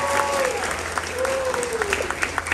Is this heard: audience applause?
yes